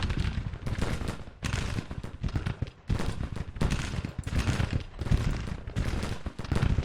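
Civil War battle in Grand Tactician, repeated booming cannon blasts and crackling musket volleys in irregular loud bursts, one after another with brief lulls, no voices.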